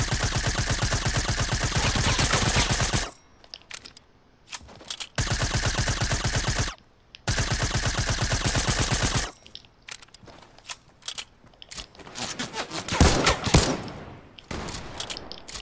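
Rapid machine gun fire in a video game rattles out in long, loud, continuous bursts, separated by short gaps of quieter gunfire and clatter.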